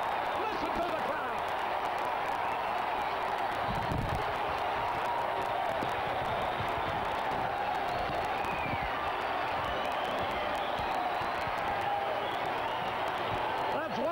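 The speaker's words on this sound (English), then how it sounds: "Listen to the crowd." Baseball stadium crowd roaring steadily after a clean base hit up the middle, a dense, sustained wash of cheering with a play-by-play announcer talking over it throughout.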